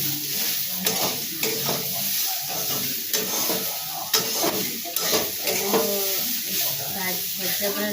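Food fries and sizzles in a pan while being stirred, a continuous close hiss broken by repeated scraping strokes, with someone talking over it.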